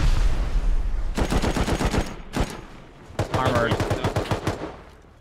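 Gunfire in the survival game Rust, with rapid automatic bursts of closely spaced shots and a short pause between volleys, loud and near, under a brief spoken word.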